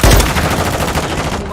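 Rapid gunfire from the shooter video game Call of Duty, loud and close, with a heavy burst at the start trailing into a dense, sustained rattle of shots, no voices over it.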